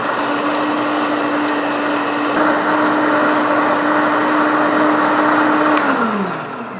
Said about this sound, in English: And we're just blending this until it's fully incorporated and everything looks good.